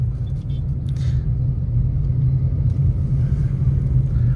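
A Tata Nexon iCNG car driving and pulling away: a steady low rumble of engine and road noise from inside the cabin, holding at an even level with no talking.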